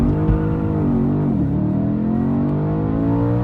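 An Audi B8 RS5 launches hard with tire spin, its engine roaring loud and close as the revs climb, dip briefly, then build again in a sustained aggressive pull.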